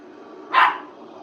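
An old dog gives one short, sharp bark, close and loud, rising over a steady low hum of background noise.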